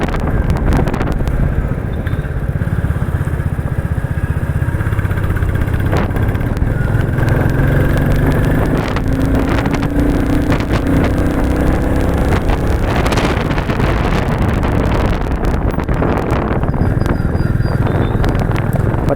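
A Royal Enfield 350 Bullet in military black, ridden on the road, with a steady engine and exhaust thump under heavy wind rush across the microphone. It stays loud and continuous throughout, with the engine note rising and falling.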